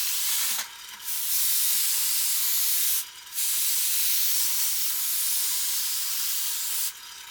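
An airbrush sprays Model Air dark armour paint on a Sherman tank model, giving a steady close-up hiss. The hiss stops briefly twice before resuming, and no one speaks.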